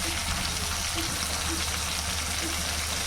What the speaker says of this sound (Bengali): আর এই তেলের মধ্যে আমি ঝিঙে দিয়েছি, বেশ একটু সুন্দর করে ভেজে তুলে নেব।